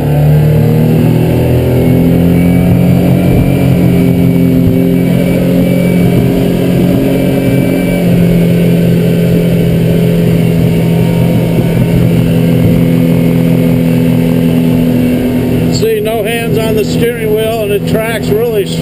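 An Alumaweld boat with a fuel-injected motor accelerates at full throttle, its engine roar loud and close, holding a steady, rising drone throughout, while someone talks over it and a sharper burst of wind and water comes near the end.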